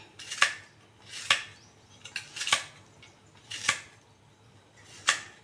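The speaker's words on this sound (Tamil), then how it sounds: "இதிலே தான் தக்காளியும் நறுக்க போகிறேன்" Five sharp chopping strikes of a knife through tomato onto a board, spaced about a second apart, close and crisp with quiet pauses between.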